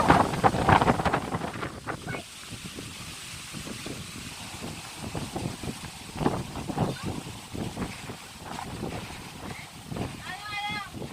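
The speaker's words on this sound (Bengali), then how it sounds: "দেখছো নাকি বাতাস" Wind gusting near a pond buffets the microphone in uneven rushes throughout, with people talking over it.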